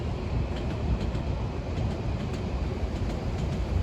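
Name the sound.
train passing on the railway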